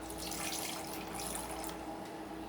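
Soda poured through a napkin makes a soft, steady trickle of liquid with a fizzy hiss, faint and continuous, with no voices.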